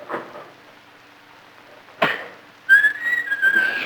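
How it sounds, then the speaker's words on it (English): A loud, bright whistle with a wavering pitch at a bowling match, following a short burst of noise; earlier there is only faint background sound. "didn't whistle loud enough"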